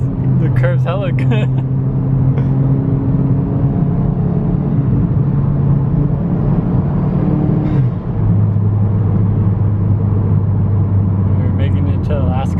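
A supercharged or turbocharged car drives through a series of curves, its engine droning at a steady pitch that shifts as it slows and picks up again, heard from nearby with a voice speaking over it.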